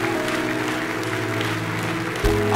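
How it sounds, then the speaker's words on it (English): Church congregation applauding during a service, a dense wash of clapping with a steady low hum under it, ending in a sudden low thump. "Give God one more round of applause."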